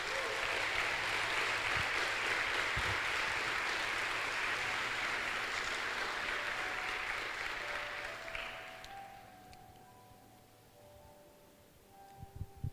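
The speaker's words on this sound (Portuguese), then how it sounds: "Vamos aplaudir a palavra de Deus?" A church congregation applauds after a sermon reading, dense clapping holding steady for about eight seconds before fading out, leaving a quiet room with faint scattered sounds.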